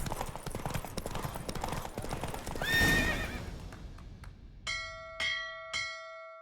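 In the video game The Witcher 3, rapid hoofbeats of a galloping horse during a race, then a loud whinny, followed by three clear ringing bell strikes in a slow, even sequence.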